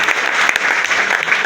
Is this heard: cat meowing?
no